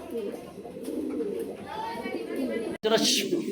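Blue shirting pigeons coo with soft low calls behind someone talking nearby, briefly interrupted by a sharp break before more cooing and noise.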